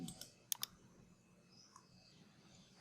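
A few crisp computer mouse clicks, close and fairly quiet, two quick ones in a row near the start and a couple of fainter ticks elsewhere, with no voices.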